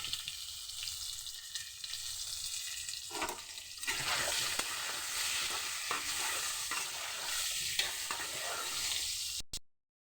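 Carrots and mixed vegetables fry in a pan, a steady close sizzle broken by repeated scraping stirs, growing louder midway and stopping abruptly at the end.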